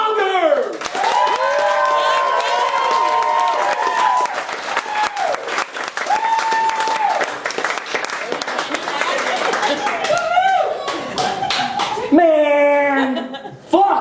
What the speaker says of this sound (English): I want everyone to give a big round of applause for Kris, Monger!